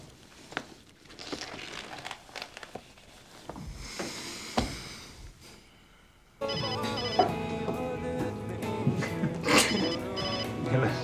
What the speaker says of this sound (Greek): Σήκωσε το τηλέφωνο.